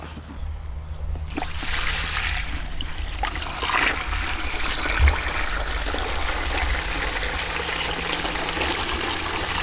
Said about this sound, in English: Filling up the water.